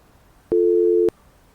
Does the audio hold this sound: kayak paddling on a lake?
no